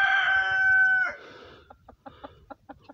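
A chicken gives a long, loud crow close by, followed by a series of short, rhythmic clucks.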